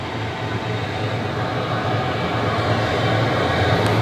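A Chinese diesel air heater runs steadily, its fan blowing hot air in a loud, continuous broadband roar with a low hum underneath, unchanging for the whole stretch.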